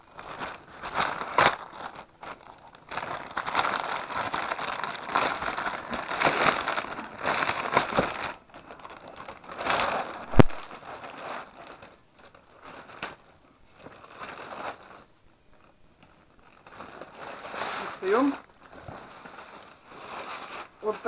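A ukulele delivery package is unwrapped and opened, with intermittent crinkling, rustling and tearing of packaging, an occasional sharp knock, and someone speaking between the handling noises.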